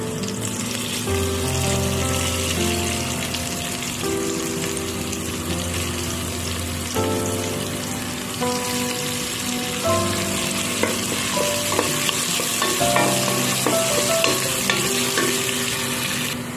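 Onion fries in hot oil for a ginataan gulay with crabs, a loud, steady sizzle with the clatter of a spoon stirring against the pan, up close, while a low hum runs underneath.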